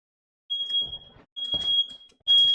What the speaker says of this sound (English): now my smoke alarm's going off